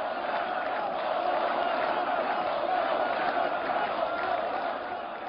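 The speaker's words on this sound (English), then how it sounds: "Listen to the massive crowds chanting Donald Trump and USA." A massive crowd in Poland chants for Donald Trump and the USA, a dense, sustained roar of many voices that stays steady and loud throughout, the words blurred into one continuous swell.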